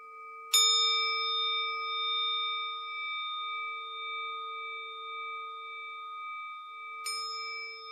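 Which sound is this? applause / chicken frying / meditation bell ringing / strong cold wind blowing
meditation bell ringing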